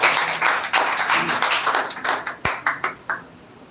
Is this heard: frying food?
no